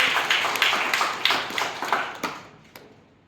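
Students in a B.Ed college classroom clap their hands together, a burst of scattered, overlapping claps that thins out and fades into a few last isolated claps.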